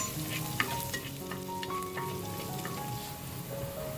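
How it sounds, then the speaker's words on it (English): Garlic sautéing in a pan for a Malaysian Indian sayur manis dal, a steady soft sizzle with faint stirring clicks and a few small pops, fairly quiet and without voices. "We'll saute the garlic until it turns fragrant"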